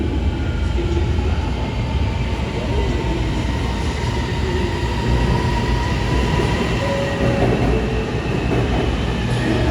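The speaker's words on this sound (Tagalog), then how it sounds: "Train ke Ampang akan tiba di platform 2." A train pulls into a Kuala Lumpur rail platform, a continuous loud rumble of wheels and carriages with faint squeals and tonal hums running throughout, and no speech.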